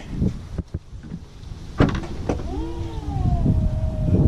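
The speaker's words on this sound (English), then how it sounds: "Automatic lift gate. Look at this." The automatic power liftgate of a 2018 Ford Edge Titanium 3.5 AWD whirs open after a few soft clicks and thumps, its motor hum rising and then settling into a steady, close drone.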